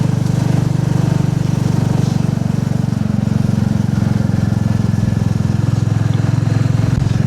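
A Royal Enfield motorcycle engine drones steadily at cruising speed on a country road in Devon, loud and close, with wind rush and no talking over it.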